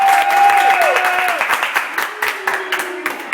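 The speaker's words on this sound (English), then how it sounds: "Round of applause." Audience clapping and applause at a wrestling talk show, a broad patter that swells early and then thins into scattered claps, with a voice-like tonal sound sliding through the first half.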